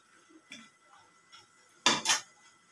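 Papaya ghonto with mung dal stir-fried in a pan. Faint light taps give way to two sharp, close metallic clanks of a spatula against the pan in quick succession.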